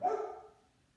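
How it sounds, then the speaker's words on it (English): A single loud dog bark right at the start, fading quickly into quiet. "These doggies act like they're"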